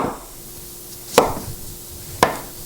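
A knife quarters mushrooms on a cutting board, giving two sharp, close chops about a second apart with a quiet pause between them.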